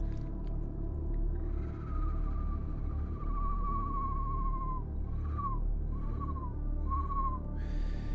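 A person whistles while gargling to imitate a bird, producing a long, slowly falling warbled tone followed by three short chirping glides over steady background noise.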